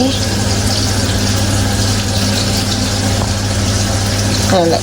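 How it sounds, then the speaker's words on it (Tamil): Hot water poured into idiyappam rice flour for mixing, a steady, fairly loud rushing wash over a low constant hum throughout. "இப்போ தண்ணியை ஊற்றி குழைக்க போகிறோம் இடியப்பத்தை"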